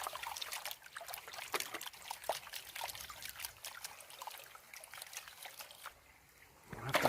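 Gold concentrate from highbanking being panned in water, with continual swishing, trickling and small splashes close by, fairly quiet, easing briefly before a final slosh.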